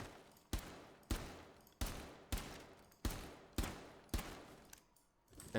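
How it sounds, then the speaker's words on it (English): Gunfire in Rainbow Six Siege punching through wooden barricade planks, seven sharp separate shots spaced about two-thirds of a second apart, each one cracking loudly and then fading into a short splintery tail. "it only takes so many bullets to tear down a barricade"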